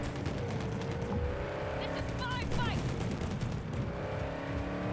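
A car engine in Cyberpunk 2077 drones and revs while tires squeal in short skids midway, with a steady rumble throughout and a voice talking over it.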